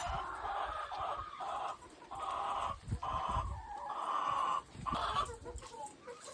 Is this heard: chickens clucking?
yes